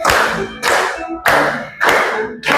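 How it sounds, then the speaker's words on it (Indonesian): An audience claps together in slow, loud, evenly spaced unison beats, about four or five sharp bursts in a row, close to the listener. "Boleh sampai tepuk tangan."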